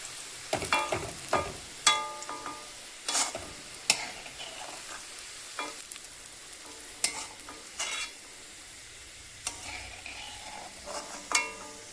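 Onions frying in oil for biryani, stirred in the pan, give a steady close sizzle broken by repeated sharp scraping and clattering strokes of the spoon throughout, with no talking.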